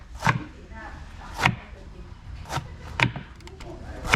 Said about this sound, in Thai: เสร็จแล้วก็เอามาหั่นเป็นแว่น ๆประมาณนี้